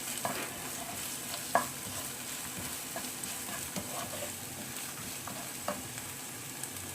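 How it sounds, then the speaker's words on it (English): Onion fries in a pan for spicy veg pasta, a constant low sizzle broken by the clicks and scrapes of a spoon stirring now and then, close up with no talking. "Now add 2 tablespoons of onion. Fry well."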